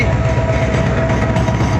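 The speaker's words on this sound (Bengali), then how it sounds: "কুমিল্লা রেলওয়ে স্টেশন অতিক্রম করে যাচ্ছে" An intercity passenger train hauled by a locomotive with Chinese coaches rumbles past close by through Comilla railway station, loud and steady, with a rhythmic clickety-clack of wheels over the rails.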